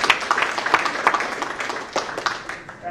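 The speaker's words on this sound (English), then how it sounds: "A clap for them, please." An audience at a closing session claps, a scattered, moderately loud round of applause with uneven individual claps spread across the whole stretch.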